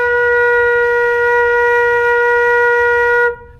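A flute holds one steady, clear tone with a couple of keys pressed down, strong and unbroken for about three seconds before cutting off abruptly into silence.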